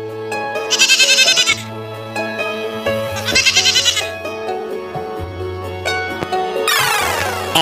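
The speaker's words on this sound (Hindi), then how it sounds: "G for goat." A goat bleats three times in loud, quavering cries, evenly spaced over a children's alphabet song with steady background music.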